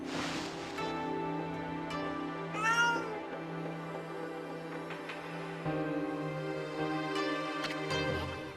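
A cat in the video game Okami meows repeatedly with drawn-out, wavering cries over a steady synthetic backdrop of music and ambient tones.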